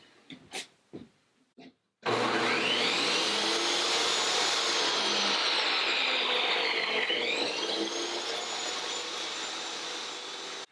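A table saw powered from a Bluetti AC180 power station starts abruptly after a few short knocks and then runs at a loud, steady whine. Its motor tone dips briefly partway through the run and then settles again.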